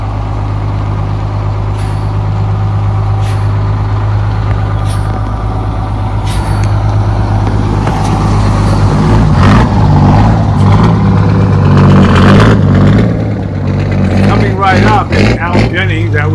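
Buses at a ride-and-drive event, including a 1974 Gillig, idle with a loud, deep engine drone while sharp air-brake hisses and releases burst out, the engine revving toward the end.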